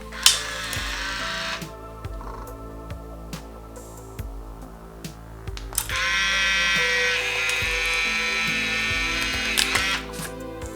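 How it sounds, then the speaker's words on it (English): A Polaroid Studio Express 403 instant camera shutter clicks, followed by a long mechanical whirring and ratcheting as the mechanism runs, with a sharp click at the end. No one speaks. "All that's left to do is press the shutter button."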